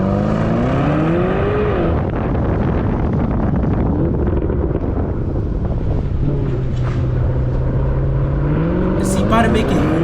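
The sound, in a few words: car engine revving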